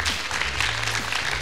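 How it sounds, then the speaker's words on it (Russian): Festival gala concert audience applauding, a steady dense wash of clapping throughout, fairly loud and even with no talk over it. "Давайте поаплодируем, друзья"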